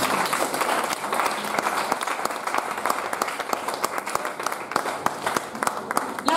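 A church congregation applauds Jesus in a steady, dense wave of clapping that holds from start to finish, with some voices and cheers mixed into the crowd.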